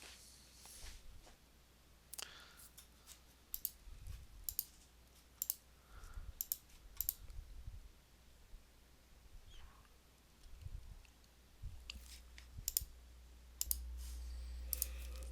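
Mouse clicks while working in FCS Express 6 flow cytometry software on a computer: sharp, quiet clicks, some single and some in quick pairs, spread irregularly over a faint background hum.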